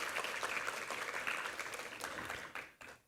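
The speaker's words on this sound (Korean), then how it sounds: "함께 한번 힘찬 격려의 박수 부탁합니다." A church congregation at a Sunday worship service gives encouraging applause after a choir's hymn, a soft, fairly distant patter of many hands that thins out and fades in the last half-second.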